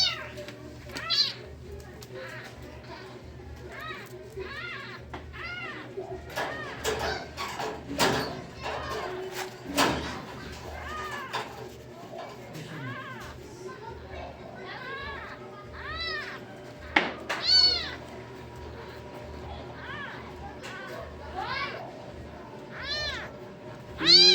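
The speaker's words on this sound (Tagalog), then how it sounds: "Maliit na kuting. Baby pa." A small abandoned kitten meows repeatedly in high, thin cries, close and frequent throughout, with people talking softly nearby and occasional knocks and household noises.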